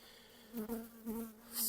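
Agitated honey bees at an opened hive buzz in a steady drone, swelling and fading as they fly close by, with a sharp hum rising at the end.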